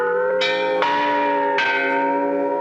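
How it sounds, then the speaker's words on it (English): Loud, ringing church bells of the San Diego Mission de Alcala, struck three times in slow succession, each strike sustaining a long, rich, humming decay that overlaps the next. "its bells rung for 2 minutes as the sanctuary below filled"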